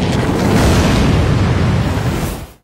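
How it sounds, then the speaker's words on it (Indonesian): Explosives detonating at the end of a river in an anime, one massive sustained boom with a dense roaring rumble that fills the whole moment before fading out at the end. "peledak yang dipasang di ujung sungai itu meledak"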